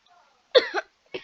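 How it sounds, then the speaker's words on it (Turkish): A person coughs twice indoors, a sharp, rough cough followed by a second shorter one after a brief pause, close and clear with no talking. "Ay ilk defa bir videoda öksürmem geldi diyeceğim de."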